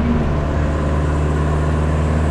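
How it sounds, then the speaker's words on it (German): A car passing on a road in India, a steady, loud engine drone with a low hum that stays even throughout, no voices over it. "es kommt da wieder ein PKW"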